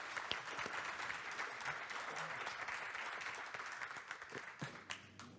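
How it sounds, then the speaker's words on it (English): Applause from a conference audience for a panel of speakers in a hall, a steady wash of clapping lasting throughout at moderate level and thinning toward the end. "maybe I would introduce another round of applause"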